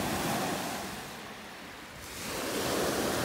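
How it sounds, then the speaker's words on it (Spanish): Strong waves surging on Lake Ontario, a broad continuous wash of surf and wind noise that eases briefly in the middle and then swells again, heard alone without voices. "Pero el agua está exageradamente fuerte."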